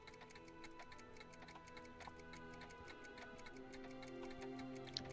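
Clocks ticking in a lab scene of the Back to the Future video game, a quiet, steady, regular tick-tock that runs throughout over a faint background hum.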